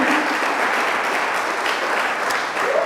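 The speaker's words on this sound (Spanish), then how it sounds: "vamos a recibirles también con un aplauso a los que nos escuchen por YouTube" A church audience breaks into applause of welcome, a broad, even wash of many hands clapping together, held steadily for a few seconds.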